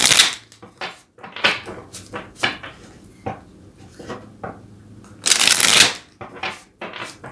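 Tarot cards being shuffled by hand, giving soft, papery riffles and slaps in uneven bursts, close and fairly quiet, with no talking.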